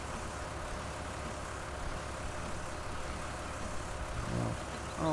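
A tractor engine runs steadily in Farming Simulator 19 while wrapping hay bales, a continuous low idling drone with a faint mechanical tone near the end.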